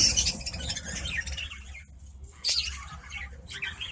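A small colony of budgie parakeets squawks and chirps in quick, overlapping bursts, bright and close, with a brief lull before the chatter picks up again.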